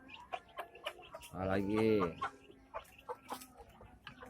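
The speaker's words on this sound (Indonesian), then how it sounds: "Tuh ayam lagi makan kawan-kawan, awas" Chickens feeding, with one loud, drawn-out squawk from a nearby hen in the middle, surrounded by short clucks and pecking ticks. A person speaks briefly.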